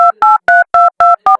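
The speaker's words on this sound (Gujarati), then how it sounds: "તું શાલજી ને ફોન કરવા જતા." A telephone keypad plays six crisp, evenly spaced tones as a number is dialed. Each beep is short and loud and comes close up, with no talking.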